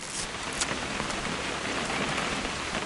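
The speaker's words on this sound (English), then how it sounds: "It's gonna rain the whole weekend," Steady, dense video game rainfall pattering on a surface, continuous hiss with scattered drop splashes and no voices.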